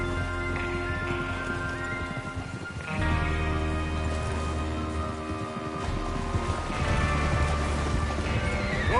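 Horse hooves gallop steadily in the video game Red Dead Redemption 2 beneath a loud, sustained musical score, with rumbling and clattering layered over the rhythm.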